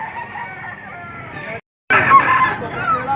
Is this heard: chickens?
yes